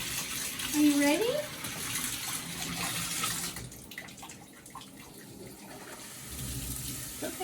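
Water runs from a tap to rinse a dog during a home bath, a steady splashing gush that fades somewhat partway through, with a brief voice heard near the start.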